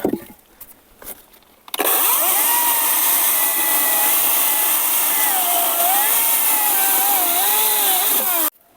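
A Vitals Professional AKZ 3606 cordless saw roars steadily through damp oak for several seconds, its pitch dipping and wavering under load, after a few sharp knocks at the start.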